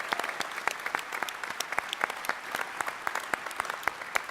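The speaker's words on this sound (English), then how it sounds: "let's have a little round of applause for Mike Salvatore, everybody." An audience at a Halo fan convention panel claps steadily, distinct sharp claps from a modest crowd, fairly close and even in rhythm.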